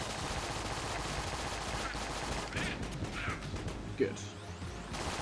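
A modded real-world firearm firing in Enter the Gungeon: dense, continuous game gunfire with a sharp crack near the end, playing under a voice that speaks briefly.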